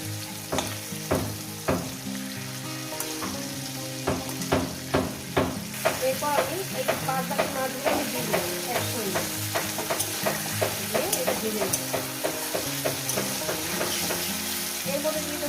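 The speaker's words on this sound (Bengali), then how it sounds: "বাদবাকি মাছগুলো দিয়ে এই ফোড়নের সঙ্গে একটু ভেজে নেব" Small lote fish frying in oil with tempering spices: a loud, busy sizzle broken by repeated rhythmic scraping and clanking of a spatula stirring in the pan, close up and continuous.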